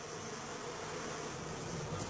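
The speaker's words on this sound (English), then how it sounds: "All our bees are now vacuumed up." Swarm of honeybees buzzing steadily after a hive removal, a dense continuous hum with no pauses, fairly close and unbroken throughout.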